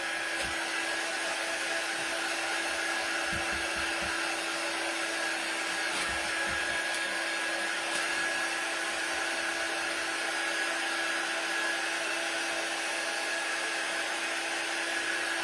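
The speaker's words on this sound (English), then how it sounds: "It doesn't take long to dry with the heat gun at all." A heat gun blows steadily on a wooden snowflake sign as the paint dries, producing a continuous loud, even whooshing roar with a faint tonal whine that runs unbroken throughout, with no talking.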